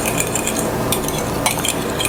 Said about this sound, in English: I just want to mix this until it's well blended